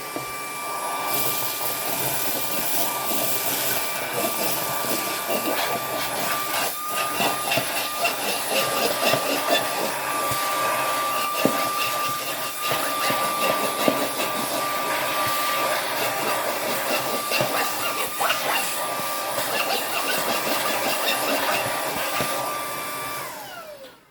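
A PURENO V200 cordless upright vacuum cleaner, 250 W, runs steadily on imitation car upholstery at medium power, a loud continuous whirring motor with airy hiss throughout, near and alone, cutting off at the very end.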